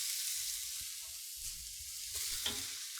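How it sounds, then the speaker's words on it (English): Brown mushrooms and shallots fry in butter in a pan, giving a steady close sizzle with soft stirring and scraping throughout and no talking. "here I've got the brown mushrooms that I'm cooking with the shallots"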